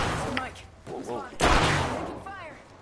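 Gunfire in the video game Apex Legends, a few sharp shots and a burst under excited overlapping player talk, with game effects around them.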